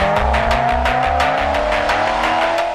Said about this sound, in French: La mélodie du V8 reste la même.